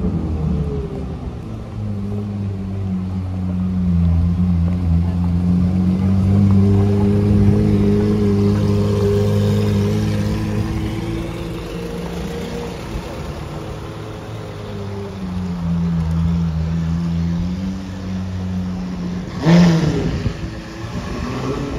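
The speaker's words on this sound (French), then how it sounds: "On va regarder 812 GTS qui est en train d'arriver" A Ferrari 812 GTS V12 sports car with a Saudi plate arrives on a London street, its engine droning loud and close with rising and falling revs, easing off, then building again, with a sharp burst near the end.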